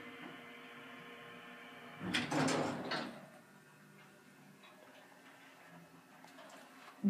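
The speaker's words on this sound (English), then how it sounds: "Doors are slow." Thyssen Krupp hydraulic elevator doors on a 2001 unit sliding slowly, a brief rumbling slide of about a second amid a quiet machine hum, followed by faint ticks and a sharp knock at the end.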